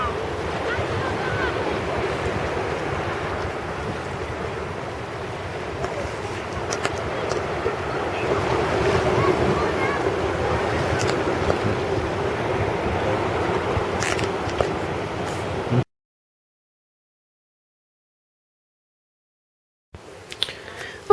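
Big high-tide waves wash against a coastline where the beach is covered, a steady loud roar of surf with gusty wind buffeting the microphone, running continuously for about sixteen seconds before dropping out, then returning briefly.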